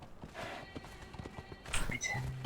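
Horse hooves clip-clop at a walk in the Conan Exiles video game, a steady string of soft, fairly close knocks under voices talking, with a brief whinny-like rise near the end.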